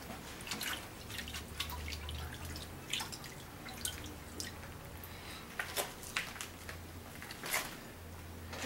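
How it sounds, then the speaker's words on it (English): Water drips and splashes off a knife blade after it is dunked into a water bucket during heat treating, a scattered run of small close drips over low steady rumble. "I'm just going to dunk it into my water bucket"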